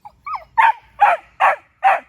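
A dog at a campsite barks angrily in a run of four sharp, close barks evenly spaced, preceded by a brief whine.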